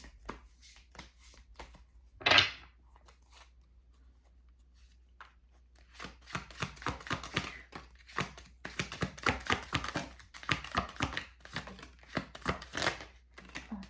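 Tarot cards being handled: one sharp card snap early on, then after a quiet stretch a long run of dense riffling shuffles and rustling card sounds, close and fairly loud, with no talking.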